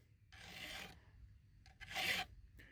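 A hand file sharpens chainsaw chain teeth in two quick rasping strokes with a few short scrapes between, close and fairly quiet.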